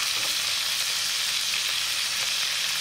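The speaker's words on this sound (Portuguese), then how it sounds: "vamos virar as nossas costelinhas, ó. Já vamos dourando." Pork ribs sizzle and brown in a hot pan for a canjiquinha dish, a continuous bright hiss of fat frying steadily at close range, with no talking.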